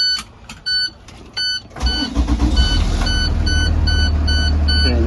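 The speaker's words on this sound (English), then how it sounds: "now that my bus is running" A school bus engine cranks and catches, then settles into a loud, steady diesel idle, while an electronic chime beeps in a repeating pattern before and after the start.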